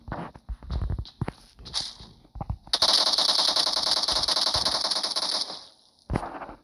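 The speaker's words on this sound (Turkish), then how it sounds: "762 gerçekten çok sıkıntılı bir silah. AKM ile." In PUBG Mobile, an AKM 7.62 rifle fires, with scattered single shots and then a loud, sustained rattle of automatic fire lasting a few seconds before a final shot.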